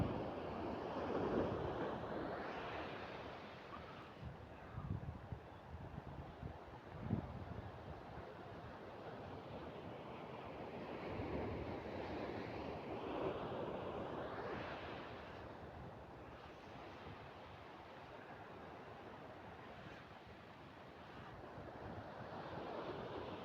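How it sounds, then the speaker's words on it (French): Ocean waves roll onto the shore in a broad, steady wash of surf mixed with wind buffeting the microphone, swelling and easing slowly over a long stretch with no voices. "Oh, les vagues."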